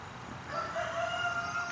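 A rooster crows once in the distance, a drawn-out, wavering call over a faint steady background hum.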